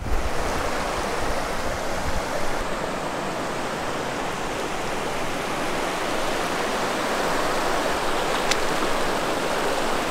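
Rushing water of a cold Alpine river, a steady broadband roar close by with no let-up, flowing alone without voices.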